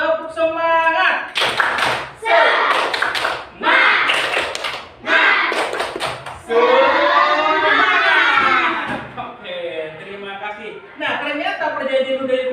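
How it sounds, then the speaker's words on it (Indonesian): Classroom of students performing a rhythmic spirit clap, bursts of loud, patterned clapping separated by short pauses, with voices chanting and shouting along between and over the claps. "Tepuk semangat."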